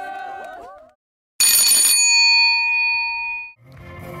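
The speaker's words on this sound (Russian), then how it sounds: "Последний звонок прозвучал и для выпускников 40-й школы." A school bell rings at a last-bell ceremony for graduates, one bright metallic strike that sustains and slowly decays over about two seconds, set between crowd sounds and chatter.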